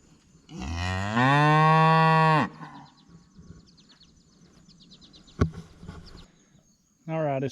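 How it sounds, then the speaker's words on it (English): Cows on a farm moo, one long loud tonal call close by followed by a quieter stretch with a sharp knock, then another moo starting at the end. "Set up and listen to the cows."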